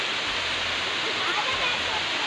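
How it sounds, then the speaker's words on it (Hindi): The Siddhkhol waterfall near Kasdol, Chhattisgarh, running as a thin stream, gives a soft, steady hiss of falling water that holds evenly throughout. "यहाँ पर आप देख सकते हैं झरना वाटरफॉल आप यहाँ देख सकते हैं।"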